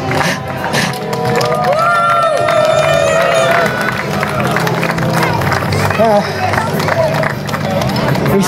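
A street-music festival crowd in Lauf an der Pegnitz, a dense, loud mass of clapping and cheering that fills the whole stretch, with voices shouting over it.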